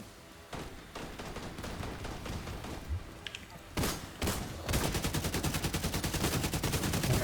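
Video game gunfire with rapid bursts of shots throughout, growing into a loud, steady, rhythmic stream of automatic fire toward the end.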